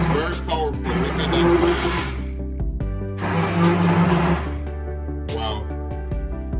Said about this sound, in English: This blender is very, very powerful.